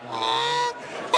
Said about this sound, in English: That's goose call there.